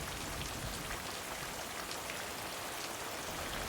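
Steady rain falls on a surface, a dense, even hiss of countless drops that stays constant and moderately quiet throughout, with no voices.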